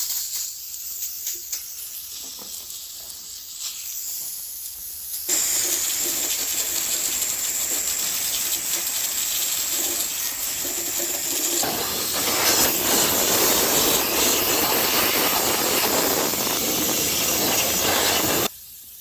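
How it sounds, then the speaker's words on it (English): Gunk engine degreaser sprayed from an aerosol onto a small-block Chevy 350 engine block in a workshop, giving a steady, loud, broad hiss that shifts in intensity over about nineteen seconds before cutting off abruptly. "whilst I'm spraying gunk on that block down there"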